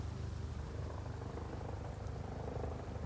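A helicopter flies overhead with a continuous low, throbbing rotor rumble and broadband wash, steady and fairly loud throughout, with no talking.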